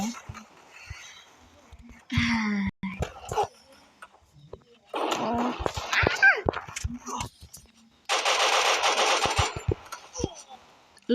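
Gunfire in the mobile shooter Free Fire, heard as scattered sharp shots and short rapid bursts, some loud and close, mixed with in-game noise while a person talks over it.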